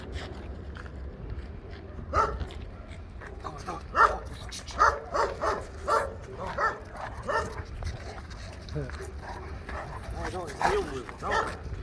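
A dog barks, yips and whines repeatedly at close range, with people talking over it throughout.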